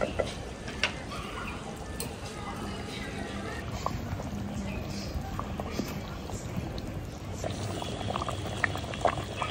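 Mutton curry simmering in a clay pot over an open fire in a village kitchen, a steady low bubbling and crackle that runs unbroken at moderate loudness.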